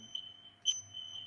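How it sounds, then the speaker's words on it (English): A home smoke or fire alarm sounds with a sustained high electronic beeping tone, fairly loud and close, pulsing slightly with a sharper burst midway, no voices. "Whoa, that's my fire alarm."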